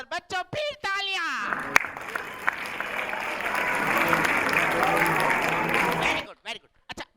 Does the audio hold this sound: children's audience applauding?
yes